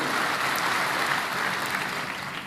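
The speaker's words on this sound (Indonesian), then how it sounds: "berikan tepuk tangan untuk Tuhan" A congregation at a Sunday church service claps in dense, continuous applause, close and loud throughout the short stretch, easing only slightly at the end.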